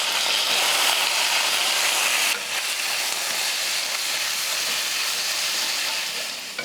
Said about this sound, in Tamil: கத்திரிக்காயை ஒரு 2 நிமிஷத்துக்கு இது போல் நான் நல்லா வதக்கினேன்.